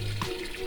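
Water from a pot of boiled beef tongue being poured off into a sink, a steady running splash with a brief low gurgle near the start, close and moderately loud.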